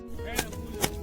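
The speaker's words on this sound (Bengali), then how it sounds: "এবার লঙ্কাটা কুচিয়ে নিচ্ছে, দারুণ কুচাচ্ছে।" A knife chops green chili in two sharp, close strikes about half a second apart. The cuts sit over low background noise and a faint voice.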